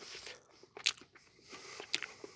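Crunchy bites of seafood fried rice with squid from a combat ration, a few sharp chewing crunches close to the mic over a quiet background.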